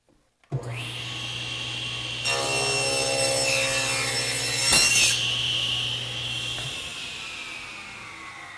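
A table saw spins up with a steady hum, then cuts through a board guided by a Milescraft GrabberPRO with a harsh, rising whine for a few seconds before the blade winds down.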